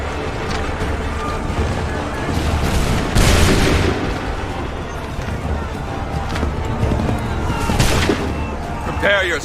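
Musket volleys in the video game Assassin's Creed 3 crack out in loud booming bursts, two sharp salvos standing out amid continuous battle din, with shouted commands heard in between.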